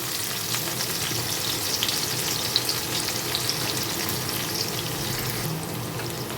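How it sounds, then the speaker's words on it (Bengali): Sliced onions and torn bay leaves fry in hot oil with a steady, close hiss and crackle that holds unbroken from start to end, with no voices. "বন্ধুরা এখন পেঁয়াজটাকে আমি একটু হালকা করে ভেজে নেব"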